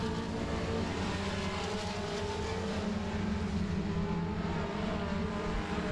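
Race cars lapping at Monarch Motor Speedway, a steady distant engine drone rising and falling faintly as the pack circles, with no voices over it.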